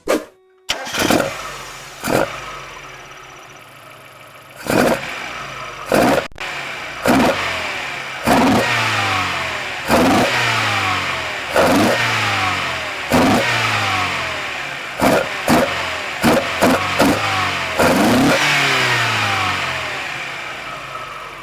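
A Mazda NA Roadster engine fitted with OER 45 racing carburetors and open funnels, revved in about a dozen sharp throttle blips. Each blip snaps up loudly and close, then falls back to a rough idle between them.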